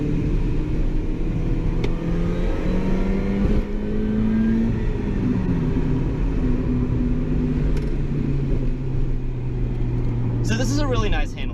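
A Mini R52 convertible driving on a private road, its engine droning steadily close by with rising and falling pitch as it accelerates and shifts through gears, a continuous rumble throughout with a brief voice near the end.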